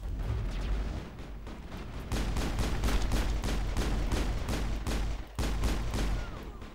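Gunfire in the video game Mass Effect: rapid, loud shots fired in quick bursts, with one brief pause before the firing resumes.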